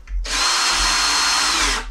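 A Ryobi cordless drill whirs at high speed for under two seconds, starting abruptly and holding a steady, close, loud pitch.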